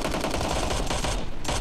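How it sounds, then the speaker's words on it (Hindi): Rapid, loud bursts of shotgun fire in the mobile battle-royale game PUBG Mobile Lite, close and dense with no pauses across the short stretch and no voices over it. "शॉटगन से मेरे को ही खत्म कर रहा है"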